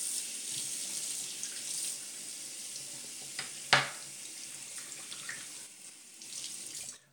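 Tap water runs steadily into a bathroom sink for a rinse after a shave, a continuous close hiss with one brief louder splash midway, then trailing off at the end.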